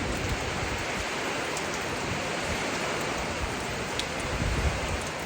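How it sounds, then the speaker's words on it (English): Light rain falls around a shed in steady, dense hiss, constant and even in level with no distinct drops standing out, heard alone without talk. "A little rain, it ain't been bad at all."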